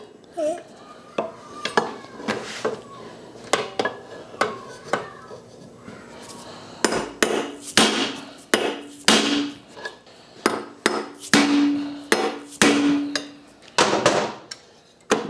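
Sharp metallic hammer blows strike the flywheel nut of a Craftsman lawn mower, a dozen or more uneven clanging hits, close and loud, with faster bursts in the second half.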